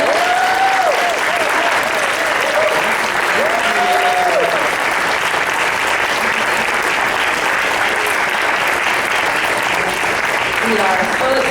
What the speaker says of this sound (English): I want us all to give Andre a round of applause.